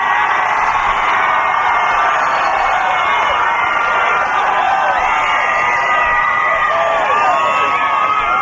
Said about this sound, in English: the reason all the cheering's going on